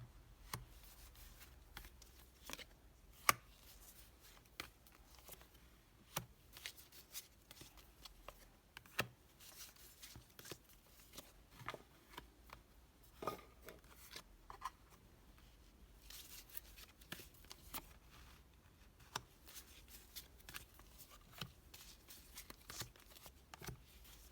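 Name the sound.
laying out ten tarot cards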